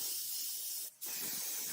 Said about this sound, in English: Spraying clear lacquer on top of the metal to preserve it, plus cover up the paint.